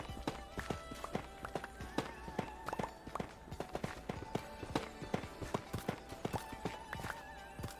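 A horse's hooves clip-clop in a quick, uneven rhythm close by, with brief whinnying cries mixed into the repeated hoof strikes.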